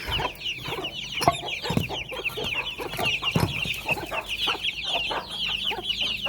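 Hens cluck steadily and close by, a busy overlapping chorus of short calls from several birds with no talking.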